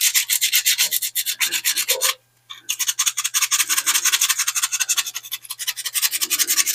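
Rapid rhythmic scratchy strokes of hand sanding a metal part on an Edsel car, close and steady, pausing briefly partway before resuming.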